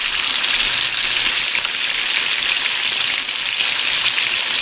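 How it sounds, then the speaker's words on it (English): Crappie fillets coated in cornmeal and tempura batter fry in hot oil, giving a steady, dense, close sizzle that holds evenly throughout with no voices. "you can see they're frying up really pretty"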